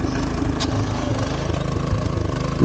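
A power weeder with freshly changed oil and new blades runs close by, its small engine chugging at a steady idle with a rhythmic low throb and a brief rev at the end.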